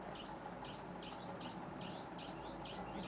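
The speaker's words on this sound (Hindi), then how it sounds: "ये चिड़िया कहाँ से आ गई एकदम से?" A bird keeps up a steady run of repeated two-part chirps, about two calls per second and fairly close. The calls sit over a constant hiss of background noise, and no voices are heard.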